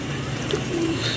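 Pigeons coo softly over a steady background hum in a pigeon-flying setting, a low murmuring coo rising briefly in the middle of the short stretch, with no talk.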